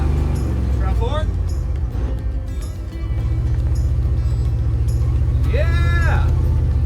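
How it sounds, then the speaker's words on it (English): An abandoned 1974 fire truck's engine drones loud and steady while driving, a deep continuous rumble with rising whistling tones, as excited voices shout and cheer over it. "I'm driving a fire truck."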